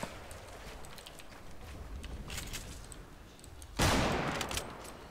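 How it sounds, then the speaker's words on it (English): Rapid gunfire in a squad battle video game, with scattered shot bursts early on and a loud, sustained volley of shots near the end. "Who else is shooting at us?"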